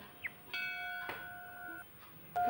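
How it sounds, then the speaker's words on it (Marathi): A temple bell is struck, its clear ringing tone hanging for about a second before a second strike rings out; fairly quiet. "तो बघा त्याला घंटा वाजवतो आहे तर केवढा मोठा घंटा आहे बघा"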